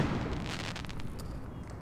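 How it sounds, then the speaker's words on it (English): Fireworks going off in the online game APB Reloaded: a run of crackling, popping bursts at moderate distance over a low rumble, fairly quiet and continuous. "fireworks"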